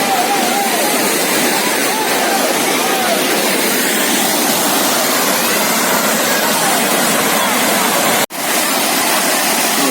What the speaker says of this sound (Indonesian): ini namanya air terjun rayap yang ada di Blangkulam